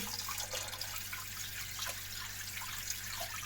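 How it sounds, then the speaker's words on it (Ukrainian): Water runs into a recirculating aquaculture tank that holds Australian red-claw crayfish. It makes a steady, fairly faint trickling rush with small splashes and no speech. "Зараз додаємо водичку."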